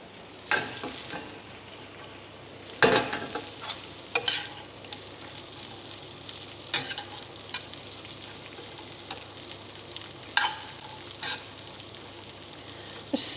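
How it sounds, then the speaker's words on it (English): Green beans sizzling in a frying pan, a constant crackling fry with scattered sharp clatters and scrapes from stirring. "I'm happy that that is sizzling perfectly. I'm ready to throw my beans straight in."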